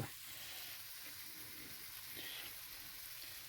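Seasoned pork browns in a pan with a faint, steady sizzle and hiss, quiet and continuous with no voices.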